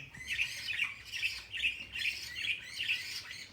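Cockatiels and budgerigars in an aviary coop give a run of sharp, rhythmic squawking calls, roughly two or three per second, close and fairly loud over faint background noise.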